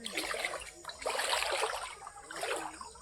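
Floodwater of the Kamala river rushing and swirling in a steady broadband wash, fairly close and continuous, with surges in loudness and no voices.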